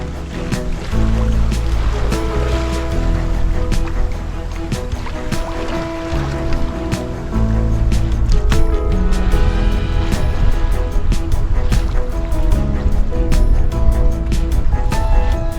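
A sailboat pushes through rough sea between the Tongan islands, with a loud, continuous rush of waves and water against the hull under a steady low rumble.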